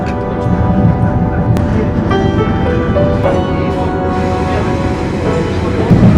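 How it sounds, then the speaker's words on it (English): Passenger train on the Sarajevo to Mostar line moving along, heard from inside as a loud, continuous rumble with rail noise and faint metallic tones that stays steady throughout. "the train is moving just as we speak."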